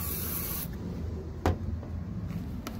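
Short hiss of WD-40 sprayed from an aerosol can onto a car headlight, a broadband burst that cuts off early, followed by a couple of faint taps and handling sounds nearby.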